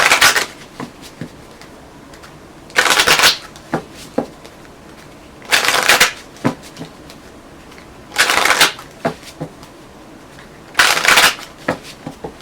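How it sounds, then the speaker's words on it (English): A deck of tarot cards being riffle-shuffled in four short, loud bursts spaced a few seconds apart, close by, with quieter handling sounds and faint room noise between. "One more shuffle."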